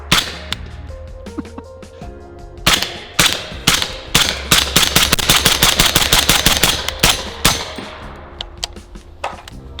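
A Sig Rattler rifle fires subsonic rounds outdoors, a few single cracks, then a rapid string of sharp reports, then scattered shots tapering off; loud, close and with no voices.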